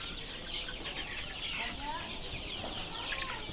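A flock of 40-day-old Sonali chickens on a farm clucks softly and continuously, with scattered chirps over a low steady background.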